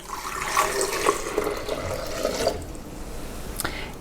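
Warm water pours into a container holding peppers and their juice for a plant-based cheese sauce, a steady close splashing stream that gurgles and trails off near the end.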